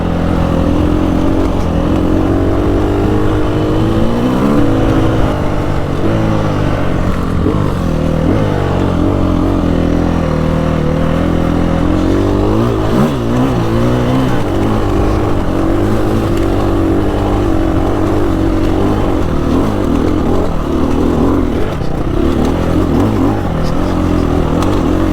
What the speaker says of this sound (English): Boy, this bike has a lot of power.